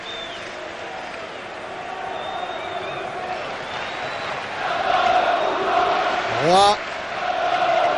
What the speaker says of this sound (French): Et le public s'applaudit, hein, car les chants ont été très beaux.